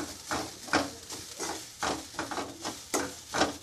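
Grated coconut roasting in ghee, stirred in regular strokes that give rhythmic scraping bursts over a soft sizzle.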